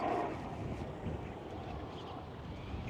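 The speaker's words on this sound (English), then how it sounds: "It's really windy out here." Constant rumbling wind buffeting the microphone outdoors on a street at sunset, dense and loud throughout with no gaps.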